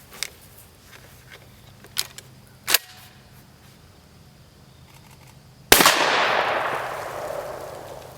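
A shotgun fires a single Flight Control wad shell of 9.33 caliber pellets outdoors, one sharp loud blast whose echo rolls away and fades over the next couple of seconds after a few faint clicks.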